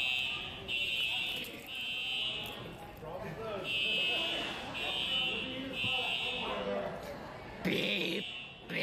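A nearby fire alarm sounds loud, shrill electronic beeps in repeated bursts, with people talking and moving around underneath.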